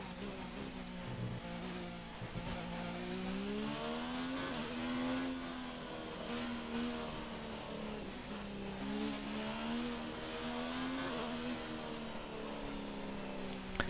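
Formula 1 car engine from the F1 2019 game, racing at the Italian Grand Prix, a steady high-pitched drone that rises and dips slightly with throttle for the whole stretch, loud and continuous with no talking.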